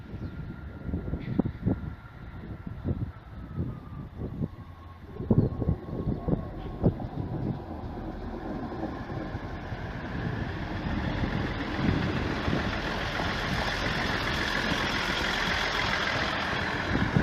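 A Class 158 diesel multiple unit, number 158 64, runs through Grantham station. Its engine rumble and wheel noise build from a mid-distance approach into a loud, sustained roar, with a few clanks early on.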